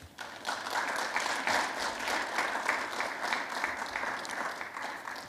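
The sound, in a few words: applause for the judges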